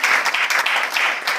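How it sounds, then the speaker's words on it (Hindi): Audience clapping at a network marketing company tour event, a brief burst of dense, enthusiastic applause that stays loud and steady throughout. "इसलिए एक बार RF सीरी के लिए जोरदार ताली हो जाए।"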